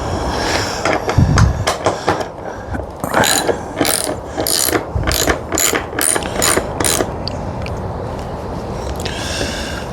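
A ratchet screwdriver clicks in quick rhythmic bursts while unscrewing the screws that hold grab rails, close and fairly loud, each run of clicks separated by short pauses and handling noise.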